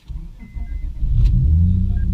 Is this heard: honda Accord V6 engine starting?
yes